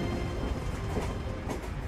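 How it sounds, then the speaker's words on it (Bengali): A train passing through open countryside at sunrise, heard as a steady distant rumble with faint rail clatter, fairly soft and continuous throughout. "ভেসে আসা ট্রেনের শব্দে গাড়িটা দাঁড় করালাম"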